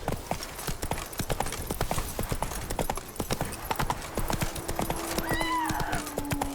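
Roach the horse galloping in The Witcher 3, rapid rhythmic hoofbeats pounding close and clear, followed by a drawn-out neigh near the end.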